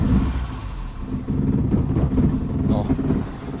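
A Ford Taunus 2.0 OHC EFI engine with a vacuum leak cranks and catches, then settles into a rough, uneven low rumble, close and short.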